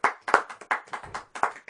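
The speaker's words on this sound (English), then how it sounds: "So, like, round of applause for Cindy Paulson." A small group of hands claps in quick, uneven bursts for roughly two seconds, close and moderately loud, with no talking over it.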